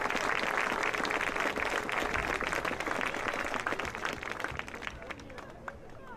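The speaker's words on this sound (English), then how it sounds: "Another round of applause." A stadium crowd at the Tyrone Area High School homecoming football game applauds loudly, the dense clapping and cheering tapering off toward the end.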